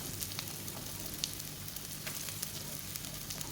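Chopped onion fries in coconut oil and ghee for a Mangalore-style country chicken sukka, giving a close, steady sizzle with small crackling pops and no talking.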